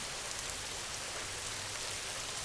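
Rain falls steadily in a dense, even patter that stays soft and continuous throughout, with no voices present.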